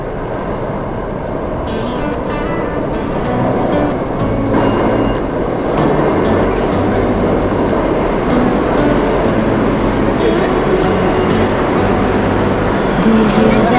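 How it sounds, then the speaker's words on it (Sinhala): New York subway train at Franklin Street station, a loud continuous rumble and roar of the cars on the rails that builds and holds, with sharp metallic squeals and clanks above it and no clear talking. "අපි ආවා සබ් එකෙන් මේ ෆ්‍රැන්ක්ලින් ස්ට්‍රීට් කියන ස්ටේෂන් එකට"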